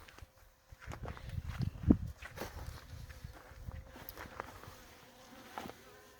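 Honey bees buzzing low and steady around a hive during handling, with soft rustling and a few sharper knocks throughout.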